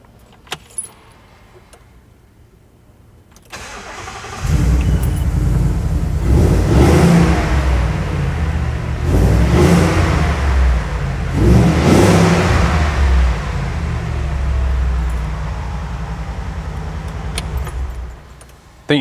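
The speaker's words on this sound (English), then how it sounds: "I think this is the right time for me to turn her over so you can hear what she sounds like" A 1968 Ford Bronco restomod with a mild exhaust cranks after a quiet start, catches loudly and settles into a deep rumble with several throttle blips and revs, close and alone.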